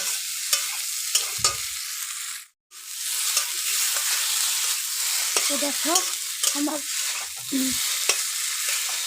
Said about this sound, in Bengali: আলুগুলো ভাজা হয়ে গেছে, একদম লাল করে ভেজে নিলাম